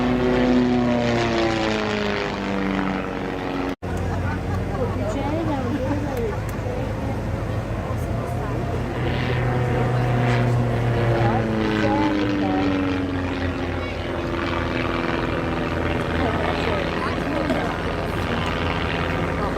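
At the 2017 Blackpool airshow, a propeller aircraft flies aerobatics overhead, its engine droning loudly and shifting in pitch as it swoops and rolls. An announcer talks over it throughout.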